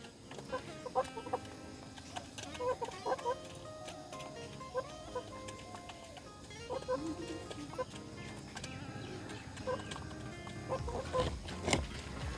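Chickens cluck and chatter continuously while pecking at scattered wheat in a backyard pet setting, with rabbits feeding nearby, a busy overlapping flock sound that stays close throughout.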